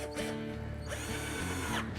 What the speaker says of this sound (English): We can use an electric screwdriver